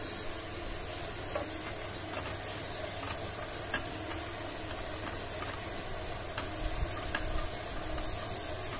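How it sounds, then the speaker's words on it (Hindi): Dry fruits and raisins sauté gently in desi ghee over a low gas flame, giving a soft, continuous sizzle with faint crackles and occasional stirring scrapes, quiet and steady throughout. "इसको हल्का सा हम सॉटे कर लेंगे देसी घी में।"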